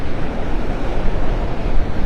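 Wind blowing across Vanderbilt Beach in North Naples, a steady, loud, broadband rush that gusts slightly but never lets up, with no voices.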